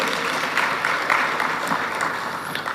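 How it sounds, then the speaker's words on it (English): A crowd at a public gathering in Ghana applauds the chiefs, a short burst of mixed clapping with some background murmur, moderately loud and steady. "Please, a round of applause for them."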